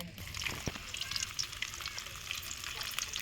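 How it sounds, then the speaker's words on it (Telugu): Garlic pieces and dried red chillies sizzle and crackle in hot oil, tempering for Telangana-style raw mango pickle. The sizzle is a continuous, close hiss with light stirring. "ఎండుమిర్చి వేస్తున్నాం సో ఈ మిగ్ ఈ మిగిలిన ఎల్లిపాయ ముక్కలు ఉన్నాయి కదా ఈ పోపులో వేసుకుంటున్నా"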